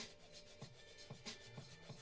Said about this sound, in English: massive sanding, some filing.